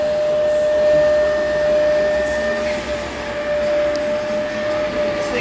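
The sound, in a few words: shop floor carpet cleaner cleaning a floor mat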